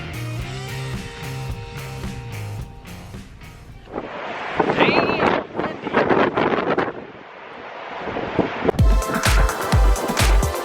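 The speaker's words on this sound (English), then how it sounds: "it's super windy" Strong gusting wind in Yellowstone buffets the microphone in loud, rumbling bursts, with brief stretches of music at the start and end.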